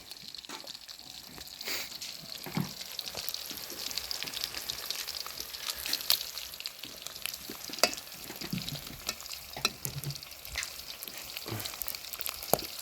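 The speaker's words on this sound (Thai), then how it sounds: "โอ้น้ำมันแตก" Hot oil splattering and crackling while food fries in a pan for a team meal outdoors, continuous close sizzle with irregular sharp pops and spits throughout, no talking.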